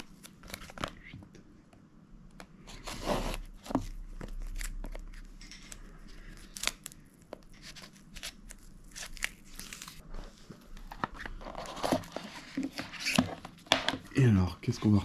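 Packaging for the Xiaomi Pad 6 stylus is opened close up: cardboard and plastic crinkle, tear and snap in irregular bursts, with a rapid rustling flurry near the end.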